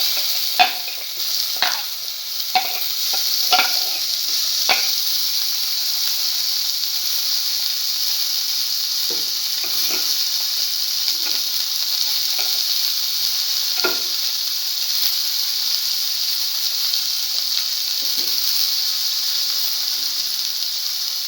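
Tomato pieces sizzle steadily in a frying pan with a constant hiss, broken by a string of scraping stirs and clinks from a utensil, close and fairly loud with no talking.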